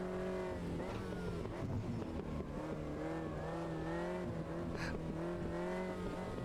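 Race car engine in Automobilista 2, a Radical SR3-style car, drones steadily throughout, revving up and down in waves with a brief tyre squeal near the end, loud and continuous with no talking.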